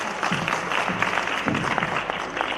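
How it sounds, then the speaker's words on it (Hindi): Audience applause at a formal event in India with the Governor of Uttar Pradesh as chief guest, a steady, dense wash of many hands clapping that holds at an even level without a break, with no talk over it. "जोरदार तालियां।"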